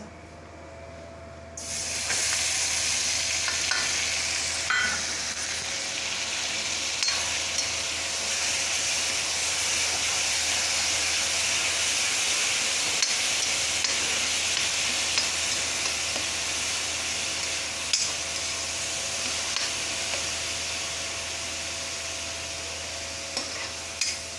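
Crushed garlic masala frying in a pan for a Punjabi tinda vegetable curry, a steady, loud broadband sizzle and hiss that holds for more than twenty seconds after a brief quiet start, with no one speaking.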